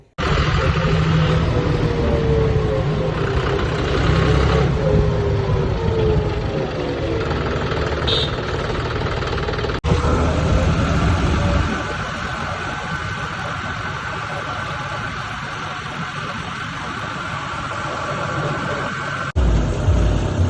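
A green John Deere tractor runs close by on a Punjab farm, its engine a loud, continuous drone that steadies and drops slightly in intensity partway through, with no one talking.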